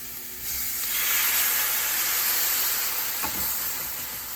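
Splash of water hits bell peppers cooking in a hot steel pan, bursting into a loud hissing sizzle of steam that swells quickly and then slowly settles into a steady fizz, with no voices.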